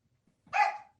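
A single short, close dog bark rises out of near silence in a quiet room.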